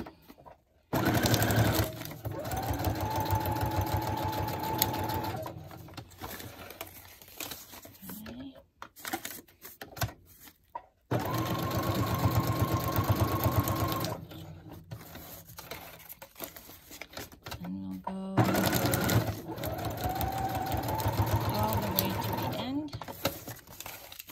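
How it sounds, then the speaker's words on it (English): A sewing machine whirs in several long bursts separated by quiet pauses, its rapid mechanical chatter close and steady while running. "Probably shaking because of the sewing machine."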